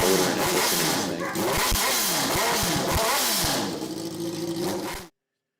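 A quad fitted with a 1300cc Hayabusa motor revs hard and loud up close, its engine surging and dropping through several rapid throttle blips before it cuts off abruptly.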